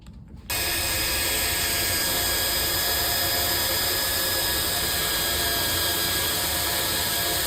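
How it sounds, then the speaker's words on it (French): A power drill bores a hole for a greenhouse roof window, backed by a wooden block. After a brief quiet start, the motor whirs loud and steady close by, with no talk. "une cale pour pouvoir percer mon dernier trou ici"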